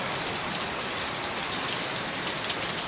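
Steady, dense rain falls at the start of a monsoon shower on Satam day, a continuous close hiss of drops on surfaces with no pauses and no voices.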